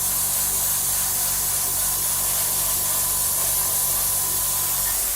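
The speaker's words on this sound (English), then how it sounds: "So we're spraying around here." Airbrush spraying paint onto a 1/32 Trumpeter F-14D Tomcat model kit, a steady continuous airy hiss heard up close, unbroken for the whole stretch with no talking.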